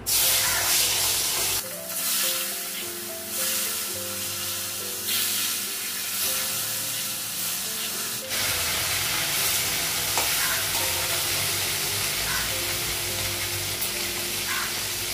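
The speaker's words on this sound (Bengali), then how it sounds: "তেল দিলাম, হলুদ দিলাম, মাছগুলো লাগাবো।" Fish pieces frying in hot oil with turmeric on a low gas flame, a steady loud sizzle running throughout with scraping stir noises and some tonal kitchen hum early on; no talking.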